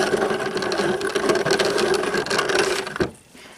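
A grinder breaks up hard pieces of homemade corned black powder, giving a dense, continuous rattling mechanical grind up close that stops abruptly near the end.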